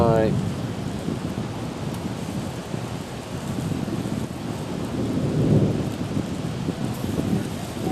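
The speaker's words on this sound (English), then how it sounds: "the wind's kicking up a little bit" Wind gusts outdoors beside a grill where a New York strip steak is cooking, a loud, continuous rushing roar against the microphone that swells around the middle.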